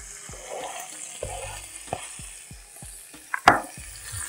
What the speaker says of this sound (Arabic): خلي بالكوا علشان كله بيطرطش